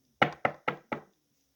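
Four firm knocks on a door come in an even, quick rhythm, close and clear, followed by silence.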